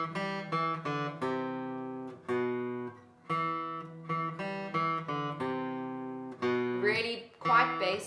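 Electric or clean guitar picking out a riff, single notes fretted with two fingers on the 4th string, a steady repeating phrase played alone, close and clear.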